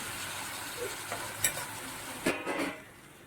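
Fresh dill leaves stir-fried in a pan for a Kerala-style thoran with only salt, giving a steady soft sizzle broken by a few stirring scrapes and bursts of hiss, close and fairly quiet.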